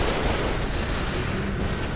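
Gunfire in the survival horror video game Cold Fear, a dense continuous barrage of shots and booms filling the clip at steady loudness with no talk.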